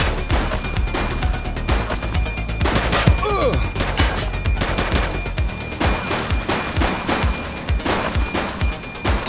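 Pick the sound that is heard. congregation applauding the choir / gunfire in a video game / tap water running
gunfire in a video game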